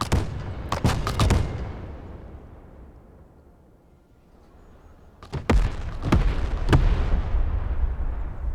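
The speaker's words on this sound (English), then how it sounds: "Let's just set up a creeping barrage and see if we can hit." A creeping artillery barrage hits in Broken Arrow with a quick cluster of heavy detonations whose rumble fades. After a lull, another string of loud, close blasts arrives, each with a rolling tail.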